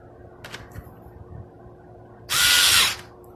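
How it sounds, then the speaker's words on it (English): A power tool whirs in a short, loud burst as it drives a screw on the air filter housing of a Mercedes-Benz Metris van, preceded by faint clicks and handling noises. "Tighten up your 3 screws here."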